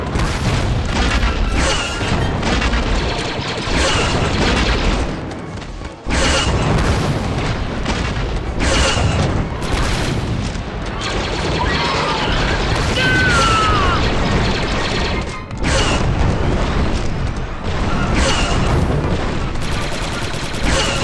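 Heavy rocket launcher blasts and explosions against an armored walker in Star Wars Republic Commando, a dense, continuous barrage of booms and rattling fire with brief gaps, loud and close throughout.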